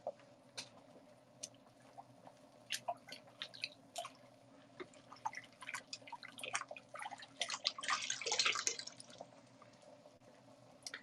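A teacup is rinsed with water, giving faint close drips and small splashes, scattered at first and then building into a brief burst of running water.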